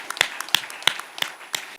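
A church congregation clapping, about six sharp, evenly spaced claps over a couple of seconds, close and fairly loud, then stopping.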